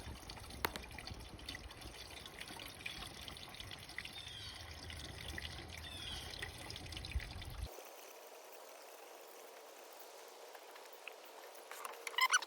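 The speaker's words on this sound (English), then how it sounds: "I'm low on windshield wiper fluid, so I'm refilling it now." Windshield washer fluid poured into the reservoir of a 2020 Toyota Corolla hybrid, a quiet trickle and gurgle that runs steadily for several seconds and then stops, leaving faint background noise.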